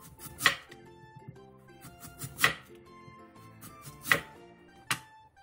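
A knife chops crisply through radish on a cutting board, four distinct sharp cuts spaced about a second apart, close and clear in a quiet room.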